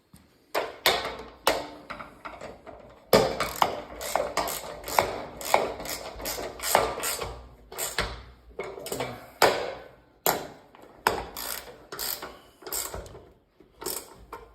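Fasteners being tightened by hand while assembling DP2 posts, a run of quick clicking, ratcheting bursts in irregular clusters, close and fairly loud, with no voices.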